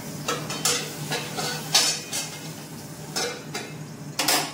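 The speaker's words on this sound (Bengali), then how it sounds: "দেখতে পাচ্ছ বেগুন ভাজা হচ্ছে" Eggplant slices frying in a pan for breakfast, a close, steady sizzle broken by repeated sharp clinks and scrapes of a utensil against the pan over a few seconds, with no talk.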